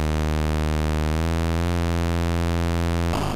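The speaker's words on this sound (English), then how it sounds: "the sound of the engine is terrible. It's like a mosquito in your head." Engine sound from a Commodore 64 video game: a continuous, loud, buzzy electronic drone whose pitch steps up a couple of times, with no voices over it.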